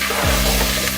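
Potato chunks are stirred into a pot of frying beef pilau, giving a brief, close sizzling hiss with a scrape of stirring throughout.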